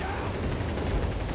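An MG 34 machine gun fires in a Company of Heroes 3 battle, a dense, continuous rattle of rapid shots mixed with other gunfire, steady and fairly loud throughout.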